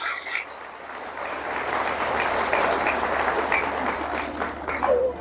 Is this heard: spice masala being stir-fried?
no